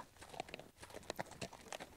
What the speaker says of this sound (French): il entend derrière lui des chevaux qui tirent un char